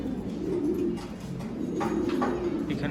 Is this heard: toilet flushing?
no